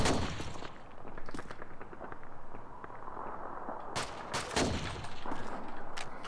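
Enemy gunfire in Call of Duty 2, a World War II shooter: scattered rifle and machine-gun shots crack at varying distances, with sharp loud bursts clustering near the end over a low battlefield rumble.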